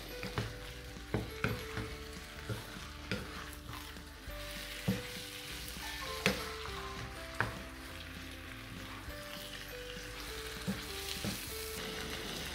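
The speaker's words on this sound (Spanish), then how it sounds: "Y empezamos a dorarlo." Ground beef for stuffed peppers browning in a pan, with a steady low sizzle and regular knocks and scrapes of a spoon mixing it, close and fairly quiet.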